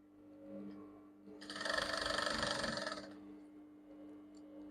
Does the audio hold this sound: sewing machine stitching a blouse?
yes